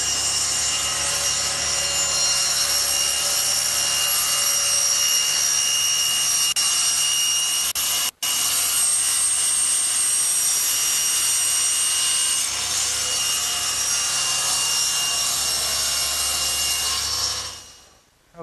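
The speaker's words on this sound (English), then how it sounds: "Suppose there are many ways to cut this slot, but I like to use the table saw." A table saw blade cutting a slot in a wooden workpiece fed slowly over the blade against the fence, giving a loud, steady high-pitched whine with one brief dropout before spinning down at the end.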